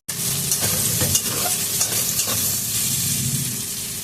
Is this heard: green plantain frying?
yes